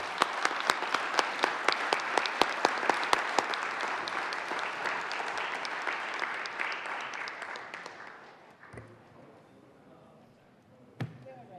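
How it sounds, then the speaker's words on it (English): Members of a state Senate chamber applaud, steady sustained clapping with sharp individual claps for about eight seconds before fading out, followed by a lone thump. "Members, let's give him applause."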